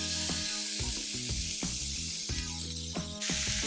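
Pork belly chunks sizzling and spitting in a hot frying pan, a dense crackling hiss with irregular pops, close and fairly loud, growing brighter near the end.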